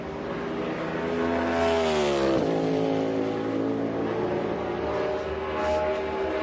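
A NASCAR Cup car at Gateway drives by with a loud, steady engine roar, then drops quickly through a downshift, the pitch sliding sharply before the engine settles and drones on.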